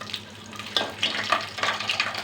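Ingredients fry in hot oil for a spicy village-style mutton rassa, giving a steady close sizzle with crackling bursts and soft stirring clatter, and no voices.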